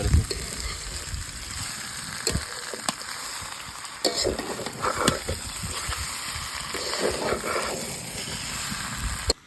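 Potatoes sizzle and fry in a pan for a Bengali aloor dom while a spoon scrapes and stirs them in irregular strokes, a steady close hiss running underneath.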